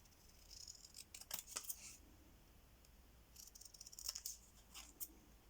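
Scissors snip paper in two soft, close bursts of quick cuts, separated by near silence.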